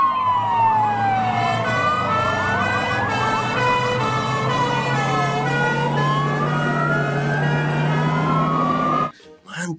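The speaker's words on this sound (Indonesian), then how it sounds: "Wow, ini ada mobil damkar water cannon." A toy fire engine water cannon truck wails a steady electronic siren, rising and falling in repeated sweeps, close and loud for about nine seconds before cutting off abruptly.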